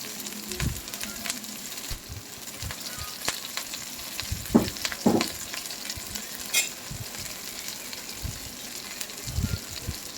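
Chopped onion and green chilli sizzle with mustard seeds in hot oil in a home kitchen, a close crackling fry broken by irregular stirring clatters and spoon scrapes.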